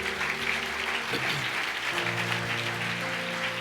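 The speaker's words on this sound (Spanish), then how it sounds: "dale un fuerte aplauso a Dios por eso" A church congregation gives a loud, sustained round of applause at a Spanish-language sermon, steady dense clapping filling the whole stretch with faint sustained tones underneath.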